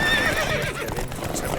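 Horse clip-clop and a whinny from The Witcher 3 video game, rhythmic hoofbeats steady and close with no talk.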